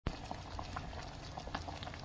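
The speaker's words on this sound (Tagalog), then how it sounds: "Pakulo muna ako tubig" Water bubbles and burbles in a pot at a steady rolling boil, quiet and close, with small pops throughout.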